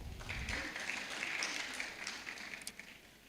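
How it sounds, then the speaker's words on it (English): Conference attendees at a women's gathering clap for themselves, a faint, thin patter of scattered applause in a large room with a few sharper individual claps. "So just clap for yourselves."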